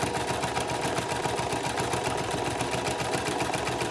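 Sewing machine back stitching a homemade keyfob wristlet, a steady, fast, close mechanical chatter running continuously for about four seconds with no speech over it.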